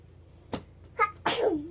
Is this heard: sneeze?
yes